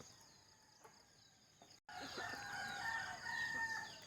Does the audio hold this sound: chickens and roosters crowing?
yes